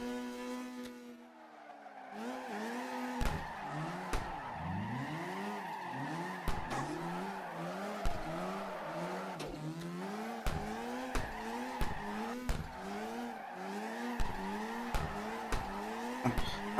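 Tires squeal continuously as a car drifts sideways in CarX Drift Racing Online, with the engine note rising and falling in repeated gear-shift sweeps and sharp backfire pops punctuating the run, loud and close with no talking.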